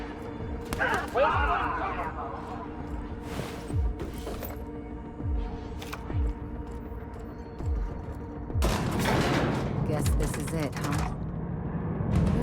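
Gunfire erupts during a prison assault in The Outer Worlds, with sharp repeated shots and bursts scattered through the scene, some louder volleys near the end, while voices talk amid the combat.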